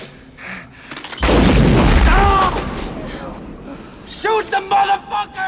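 A burst of gunfire and explosions from an action film scene sounds loud and close: a heavy booming blast, then scattered sharp pops, with voices talking over parts of it.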